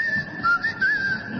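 A person whistles a wavering, melodious tone imitating the singing Colossus of Memnon, a steady sustained pitch that bends up and down over a low rumbling background.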